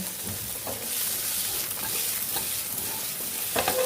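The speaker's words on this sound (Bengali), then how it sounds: "এবার এটাকে একটু নেড়ে চেড়ে ভাজা ভাজা করবো" Whole green chillies fry in hot oil with cooked taro, a steady sizzle with light scraping stirs and occasional sharper crackles, close and moderately loud with no talking.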